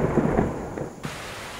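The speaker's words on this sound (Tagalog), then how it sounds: "Umuulan na dito sa aming subdivision." Steady rain pours over a Quezon City subdivision while low thunder rumbles through it, the downpour holding a constant hiss until the storm sound thins near the end.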